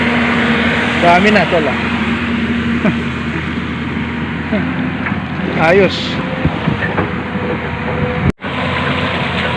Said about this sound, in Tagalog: medyo maingay yung makina